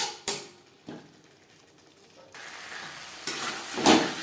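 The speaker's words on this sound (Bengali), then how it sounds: "মিডিয়াম ফ্লেমে আরও 3-4 মিনিট নাড়াচাড়া করে দেবো।" Potatoes are stirred with spices in a pan over a medium flame for a fish-head curry: a few sharp utensil knocks, then a soft sizzle that builds with scraping toward the end.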